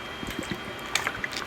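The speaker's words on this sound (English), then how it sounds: "Hold up, water break." A person drinking water, with soft liquid gulps and faint swallowing sounds spaced through a short, quiet moment.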